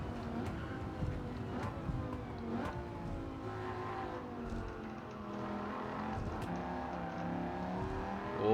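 Engine of a 2006 Dodge Viper SRT10 Coupe in Gran Turismo 7 on the Tokyo Expressway, pulling hard in third gear: a loud, continuous, harmonic roar that rises and swells through the whole stretch, with brief sharper bursts.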